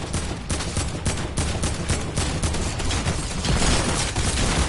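Rapid gunfire in a video game, dense bursts of automatic shots overlapping with explosive booms, loud and close throughout with no pauses.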